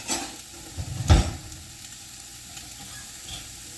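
Okra and sautéed vegetables sizzling in a pot for seafood gumbo, a soft steady fry with one clear scraping stir of a spoon near the start, close and quiet.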